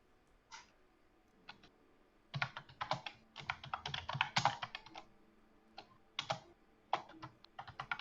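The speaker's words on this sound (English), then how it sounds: "I can hear the aggressive typing." Fast, forceful typing on a computer keyboard, heard as irregular bursts of sharp clacking keystrokes with short pauses between flurries, fairly close and clear with no voices.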